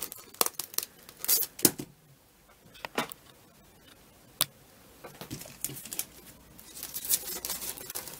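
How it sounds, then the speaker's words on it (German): Small scissors snipping through paper bags to cut out star shapes, a series of sharp, close crisp snips and rustles in irregular bursts with quiet gaps between; no talking. "mit einer kleinen Schere, den Stern jetzt so ausschneiden"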